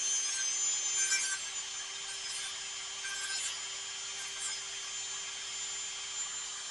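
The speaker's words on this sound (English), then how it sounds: "I'm just barely hitting that with a drum sander" A drum sander lightly grazes a handmade wooden concho, a steady high rubbing hiss over a constant motor hum, close and unbroken for several seconds, no speech.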